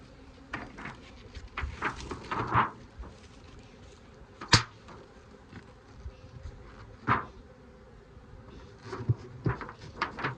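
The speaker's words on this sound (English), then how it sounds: "there's way more bees" Honeybees hum around an opened hive during the first inspection of the year, a faint steady buzz broken by several sharp wooden knocks and scrapes of hive parts being handled.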